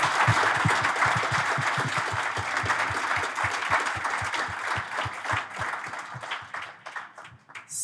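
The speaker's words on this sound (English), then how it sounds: "Can we have a really big round of applause for our amazing panel?" An audience applauds a panel at a talk event, sustained dense clapping from a crowd that tapers off toward the end.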